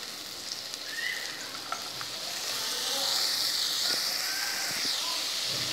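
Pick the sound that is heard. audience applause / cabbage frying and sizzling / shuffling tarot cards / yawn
cabbage frying and sizzling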